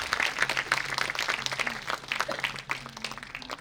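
A theater audience at a college staging of Shaw's Pygmalion applauds a cast member, steady dense clapping throughout, fairly faint and roomy, with a low hum and brief voices underneath.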